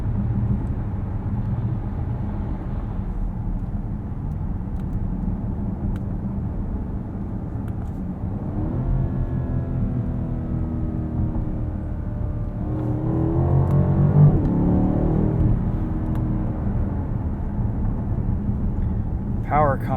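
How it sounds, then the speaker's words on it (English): A 2020 Alpina B7 xDrive with a V12 engine hums with a low, steady drone from inside the cabin while driving, swelling slightly as it pulls harder, under continuous road rumble. "The V12 has a little bit more of a lazy character to it."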